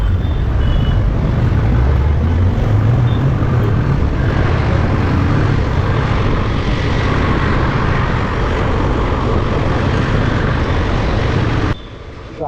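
A motorbike with slow-acting front and rear brakes rides along a road, its engine and wind roar loud and steady, with no talking.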